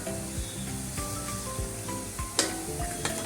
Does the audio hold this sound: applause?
no